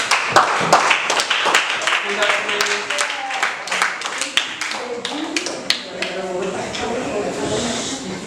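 Audience applause in a school classroom, a quick run of sharp hand claps from children, loud at first and then fading into scattered taps and chatter.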